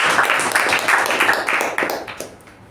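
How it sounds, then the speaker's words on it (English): Clapping from an audience at a Toastmasters club meeting, a dense burst of many hands at full strength that stays even for about two seconds before thinning and fading out. "Let's once again have a huge round of applause for Toastmaster Shreedevi."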